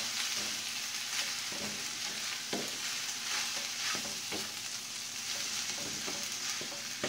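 Rice for fried rice sizzles steadily in a hot frying pan while a utensil stirs it, giving a constant frying hiss with regular scraping strokes close by.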